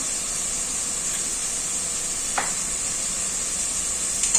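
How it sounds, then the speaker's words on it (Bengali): Onions and tomatoes fry in a pan for a desi chicken kosha, giving a steady, even sizzle with a bright hiss that runs alone throughout, broken by a couple of faint stirring clicks. "পেঁয়াজ আর টমেটোটা মোটামুটি কষানো হয়ে গেছে"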